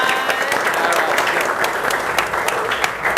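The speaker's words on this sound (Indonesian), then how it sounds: "Give applause," A seated audience at a school-style gathering claps in steady, continuous applause, close and fairly loud throughout, while a voice speaks over it.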